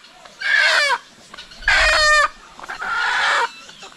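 Farm chickens call out in three loud, harmonic bursts, each lasting about half a second, separated by short pauses. The calls are close to the microphone, with faint background noise between them.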